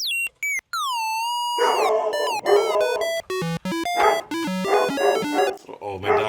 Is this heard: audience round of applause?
no